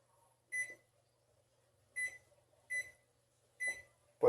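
An oven control panel beeps while the timer is set, four short sharp electronic beeps spaced irregularly, close and clear in an otherwise quiet kitchen, followed by a louder final tone.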